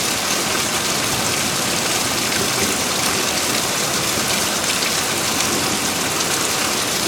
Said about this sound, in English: The rains have returned.